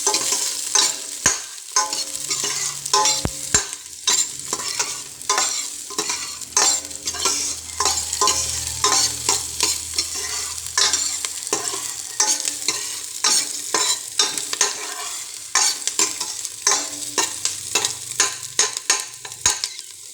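Onions sauté in a pan for chicken alukbati, with repeated sharp scrapes and clinks of a utensil stirring over a soft, steady sizzle, close up and without talk.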